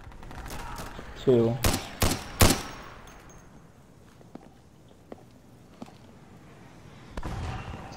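Gunfire in the video game Insurgency: a quick burst of several loud, sharp shots, then scattered faint cracks, with a voice speaking briefly over it.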